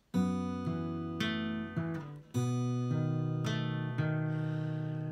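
A guitar picking individual notes, several plucked strings ringing clearly one after another in an unhurried pattern, close and alone.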